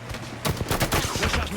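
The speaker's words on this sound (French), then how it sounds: "je me fais tirer dessus" Apex Legends firefight, heard as rapid, closely spaced gunshots in a loud, dense volley lasting under two seconds, with a voice partly mixed in.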